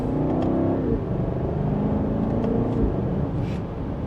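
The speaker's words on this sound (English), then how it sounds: "And just a minor acceleration, we're up to speed." BMW X6 M60i in sport mode, pulling in second gear, with a steady loud engine drone and road rumble as it accelerates, heard from inside the cabin with no talk.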